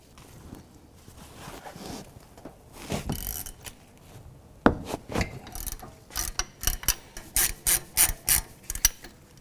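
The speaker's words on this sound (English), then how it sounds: "I'm going to use a 17mm socket" A ratchet turning a 17mm socket to loosen brake caliper bolts on an Acura MDX, bursts of quick clicking pawl strokes, sparse at first and then a rapid steady series close by.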